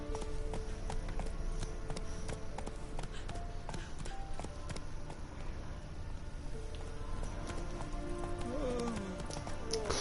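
Horse hooves clip-clop at a run in the Witcher 3 video game, a steady repeated beat over a dense, loud in-game background.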